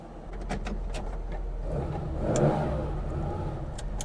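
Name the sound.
Porsche 911 ST engine starting and revving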